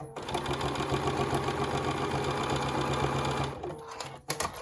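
A sewing machine stitches a wristlet strap in a steady, fast mechanical whir for about four seconds before stopping, followed by a few soft handling clicks.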